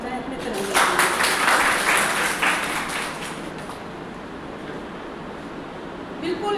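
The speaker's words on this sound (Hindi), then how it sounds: "तो तालियां हो जाए अपने तिरंगे के लिए" A crowd at a Hindi commemoration on Partition and the national tricolour flag breaks into broad applause, swelling early and then easing off, with a voice speaking over it.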